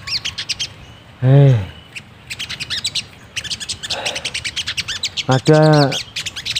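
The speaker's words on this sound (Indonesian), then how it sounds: "Padahal sini tuh wah banyak banget burung sakonya." Sogon birds calling outdoors, repeated high chirps and tweets throughout with two louder, drawn-out harmonic calls, close by, while someone speaks briefly.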